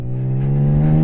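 A BMW K1600 GT touring motorcycle accelerating hard on a winding road, its engine note climbing steadily in pitch over about a second, loud and close with no talk.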